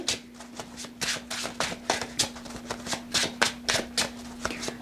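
Tarot cards are shuffled by hand close up, a quick series of crisp riffling bursts in a steady rhythm, with no talking over them.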